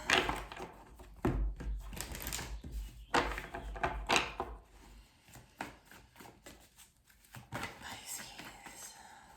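Soft, irregular bursts of tarot cards being shuffled close by, with rustling riffles and short pauses between, and quiet whispery sounds in between.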